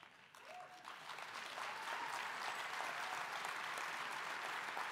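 An audience at an entrepreneurs' event, the Salon des Entrepreneurs in Paris, breaks into sustained applause that builds within a second into a steady, dense wash of clapping from a large crowd.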